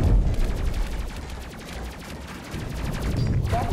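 Gunfire from the Space Crew space combat game, a steady stream of shots sounding at moderate loudness through the clip with no voices.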